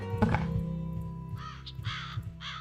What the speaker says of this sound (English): Love a good crow sound.